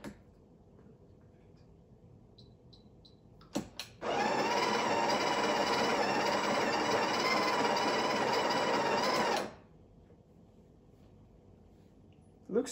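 A Breville Barista Touch BES880 grinding coffee beans at grind setting 5, a loud steady whirring burst lasting about five seconds, with a brief click before it and quiet room sound on either side.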